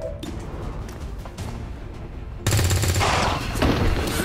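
A gunshot at a target in the XCOM 2 video game, a sudden loud burst of fire that erupts midway and keeps a dense, rattling roar to the end.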